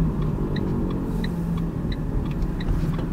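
A driving-school car creeps slowly through a tight right turn in Strasbourg. A low engine and road rumble fills the cabin, while a steady, regular ticking, like a turn indicator, repeats throughout. No one speaks.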